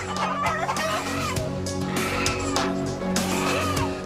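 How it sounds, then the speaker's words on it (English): Dozens of chickens cluck and squawk close by in a crowded section during an animal rescue at dusk, overlapping calls with sharp bursts and a busy background murmur. "we've got probably close to 50 chickens in this section alone"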